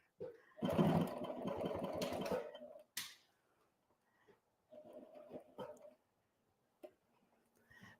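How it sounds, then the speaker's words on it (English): An HD9 sewing machine stitches leather in a short rapid mechanical burst of about two seconds, followed by a quieter pause with a few clicks and faint talk. "I'll just box these stitches out. But these stitches are beautiful on this leather."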